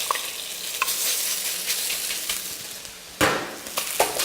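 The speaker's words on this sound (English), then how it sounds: "Just lay that beef into the wok." Beef searing in very hot oil in a wok gives a loud, bright, continuous sizzle with sporadic pops, then a sudden surge of hissing as more meat hits the metal, close up and alone.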